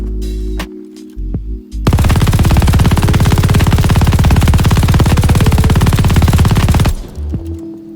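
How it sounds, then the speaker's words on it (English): An MG42 machine gun in Call of Duty Vanguard fires at a wall in one loud, sustained burst of rapid shots lasting about five seconds, with quieter game sounds before and after. "in this case we're going to try with the Mg42. Shooting on the wall."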